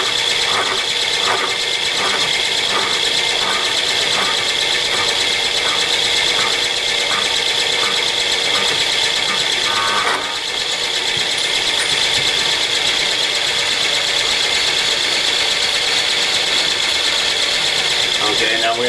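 A power tool cuts off a shallow nut, giving a steady, continuous high-pitched whine with a faint rapid rhythmic chatter early on, loud and close throughout.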